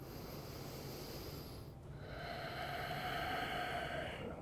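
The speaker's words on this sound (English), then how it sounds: "One last breath in." A slow, deep breath drawn in through the nose during a strong yoga practice, a steady airy rush that swells partway through and holds, close to the microphone and fairly soft, with no talk.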